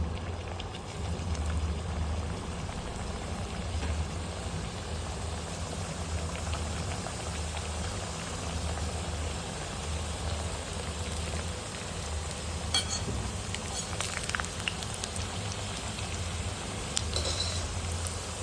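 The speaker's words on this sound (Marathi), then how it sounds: "आपण आता त्याला तेलात सोडून घेऊ" Small stuffed spinach puris deep-fry in hot oil, giving a continuous even crackle and fizz at close range with occasional faint bubbling pops.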